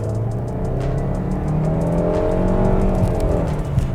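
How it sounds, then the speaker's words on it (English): A 2022 Mitsubishi Outlander with a CVT accelerates at full throttle, its engine drone loud and steady from inside the cabin as the pitch climbs smoothly with simulated gear steps. "foot to the ground and making lots of noise"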